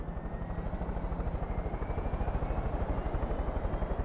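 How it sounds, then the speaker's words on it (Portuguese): A helicopter in the video game Far Cry 5 thrums with steady, rapid rotor beats, loud and continuous throughout, with no talk over it. "Será que tá funcionando esse helicóptero?"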